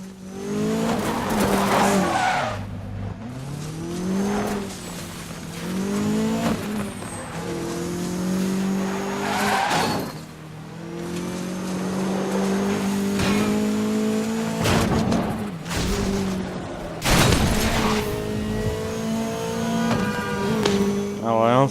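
A Lancia rally car engine in a video game revs and drops through gear shifts with tyre squeal, loud and close, alongside intermittent talk.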